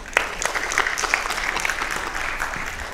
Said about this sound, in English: a big round of applause for Hardeep Singh.